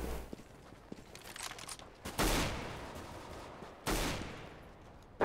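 Gunfire in the video game CS:GO: two loud, sharp broadband shots about two seconds apart, each with a decaying tail, over a low background rumble, with a further burst starting at the very end.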